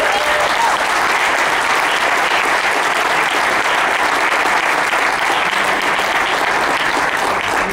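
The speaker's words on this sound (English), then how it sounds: "how about a round of applause for these guys?" Sustained, loud applause from a convention audience at a horror film reunion panel, a dense and even wash of clapping that carries on without a break throughout.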